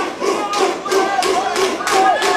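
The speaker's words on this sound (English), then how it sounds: "We hear the pro Nova União crowd here cheering their boy on from top position" A partisan crowd at a Shooto Brazil MMA event roars in support of the Nova União fighter working from top position, with loud, sustained cheering that swells in repeated bursts and carries shouts over it.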